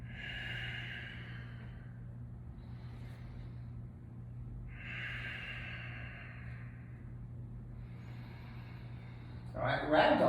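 Slow, deep breaths during a yoga session, a few long soft inhales and exhales spaced several seconds apart over a low steady hum, ending with a brief louder rustle.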